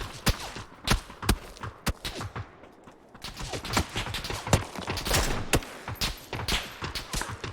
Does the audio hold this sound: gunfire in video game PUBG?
yes